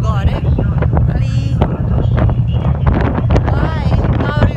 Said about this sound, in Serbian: Vidite koliko vetar duva jer sam na palubi gore.